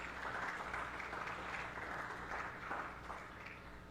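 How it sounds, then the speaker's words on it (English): An audience claps after a bowling semifinal match at a professional open, steady applause that carries on for several seconds and sounds distant and faint. "How about one more round of applause for the semifinals match?"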